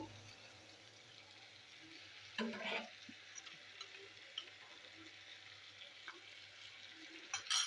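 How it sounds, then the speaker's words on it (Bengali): Spice masala of chilli and turmeric powder mixed with a little water, sautéed in a pan, gives a faint, steady sizzle with light stirring scrapes and a brief louder burst of frying midway. "দেখুন বন্ধুরা, মশলা কষানো হচ্ছে"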